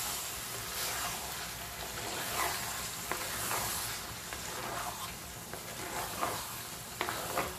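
Tomato puree being stirred into a hot pan for a whole-spice chicken dish, a steady soft sizzle and hiss under scraping spoon strokes, with occasional sharper clicks of the utensil against the pan.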